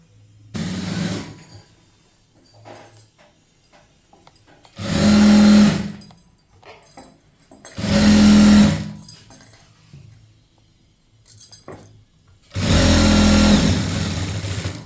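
A sewing machine stitches a chudithar sleeve in three loud bursts of whirring, separated by quieter pauses with faint handling noise.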